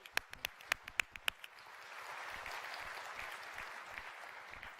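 An audience at a Co-op AGM breaks into applause, first as a few sharp, separate claps and then as a broad, steady wash of clapping from a crowd, moderately distant and slightly faint.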